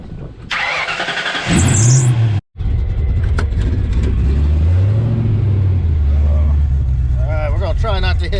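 A car fitted with a Trick Flow top end kit starts up on its first drive in freezing cold, its engine loud and close as it rumbles, surges and revs. A voice speaks briefly near the end.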